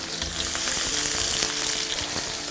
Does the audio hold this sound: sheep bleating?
no